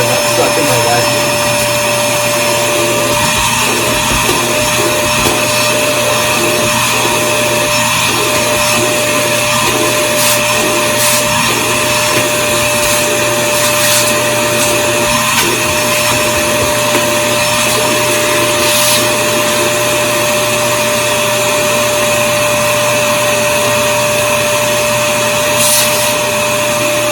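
A Dyson Ball Animal 2 upright vacuum cleaner runs continuously with a loud, steady motor whine and airy roar, close and unbroken for the whole stretch.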